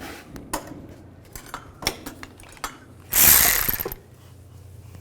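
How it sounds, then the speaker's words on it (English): Ratchet wrench with a 10mm socket turning valve cover bolts on a 2005-2015 Nissan Xterra engine, heard as scattered close metallic clicks followed by a louder burst of rapid ratcheting, with no talk. "Take this one out with a 10mm socket."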